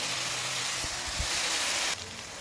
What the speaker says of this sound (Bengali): আমি সবজিগুলোকে ভালো করে ভেজে নেব।